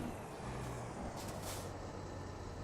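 A B-train tanker truck in American Truck Simulator on a winter road, its air brakes giving a steady hissing release over a constant engine drone, with a brief brighter burst of air midway.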